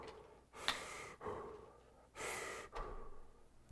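A voice imitating a football player's calm, steady breathing: slow, close breaths with two clear inhale and exhale pairs, soft and airy, with no words.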